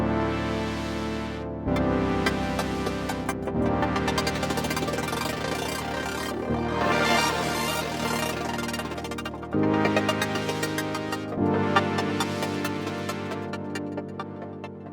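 Granular effect processor output: a dense, shimmering wash of tiny overlapping grains forming sustained tonal layers that shift in blocks every couple of seconds, steady and moderately loud with no voice.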